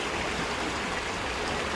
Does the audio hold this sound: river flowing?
yes